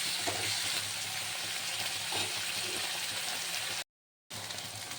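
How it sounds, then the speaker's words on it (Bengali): Ginger-garlic paste sizzling and frying in a pan while being stirred, a steady close hiss with scraping, briefly cut to silence near the end. "এর মধ্যে দিয়ে দেব আদা রসুন একসাথে বাটা। লাল লাল করে ভেজে নেব।"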